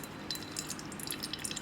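Coconut milk pressed from ground coconut drips through a sieve, a faint, close patter of tiny droplets falling in an irregular rhythm over a soft hiss, with no voices.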